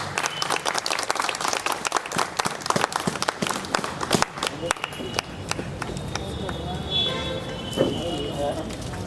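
Applause fills the hall at a poetry meet as a guest poet comes up to the stage, brisk crowd clapping for the first half that fades into quieter room noise and scattered voices.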